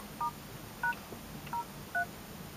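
Four short keypad dialing tones beep from a THL V11 dual-SIM smartphone, evenly spaced and fairly faint over a low background hiss.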